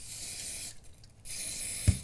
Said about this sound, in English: I'm using Pico Scenic layering spray